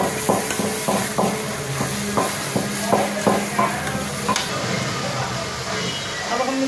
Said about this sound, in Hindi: ये हमने थोड़ी सी साबुत लाल मिर्च डाली है, इससे टेस्ट बहुत ज़्यादा आ जाता है।